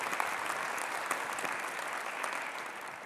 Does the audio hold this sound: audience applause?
yes